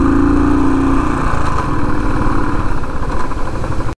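A heavy motorcycle loaded to about 400 kg climbs a steep mountain road, its engine a loud, steady, throbbing drone close by that keeps labouring without a break until it cuts off abruptly.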